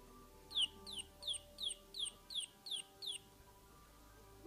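A pet bird gives a steady series of about eight short, bright chirps at an even rhythm, close by and fairly quiet, with a faint hum in the background.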